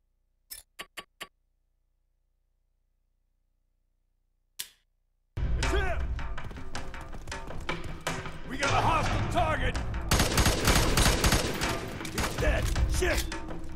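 Dense rapid gunfire in a chaotic F.E.A.R. 3 firefight, a few sharp clicks and a lone shot, then loud sustained bursts of shooting and impacts mixed with shouted voices.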